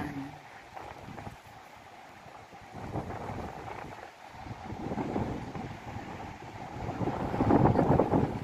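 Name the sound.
strong wind at the beach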